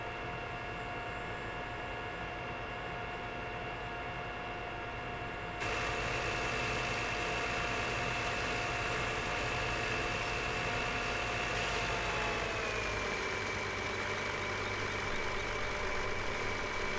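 A Finnish tractor engine idles steadily in Farming Simulator 17, a continuous mid-pitched drone with a tonal hum that shifts slightly partway through, heard alone without talk.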